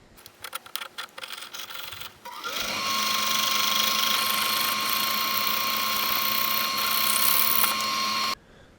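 A fine saw cuts a delicate part for a flower inlay, a loud steady buzzing whine that starts after a few seconds of light tapping and scraping, runs evenly for about six seconds up close, then stops abruptly.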